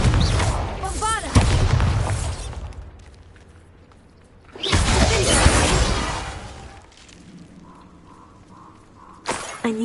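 Spell explosions from Bombarda and related fire spells in the Hogwarts Legacy video game boom loudly in two long heavy bursts with crackling debris, separated by quieter game ambience and brief chiming tones.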